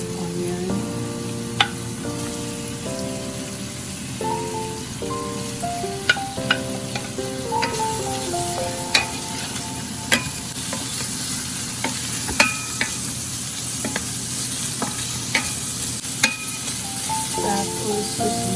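Onion sizzles and fries in a pan for laing while a utensil stirs it, giving steady close crackle with sharp scraping clicks scattered throughout.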